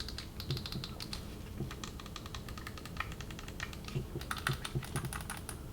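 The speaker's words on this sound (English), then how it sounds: "if you switch them to this, you have your clicky hair triggers, and you're also gonna have clicky buttons" Clicky tactical buttons and hair triggers on a PS5 controller fitted with an extremerate Rise 4 Plus Max kit, pressed in quick irregular bursts of sharp, crisp clicks, close and fairly quiet.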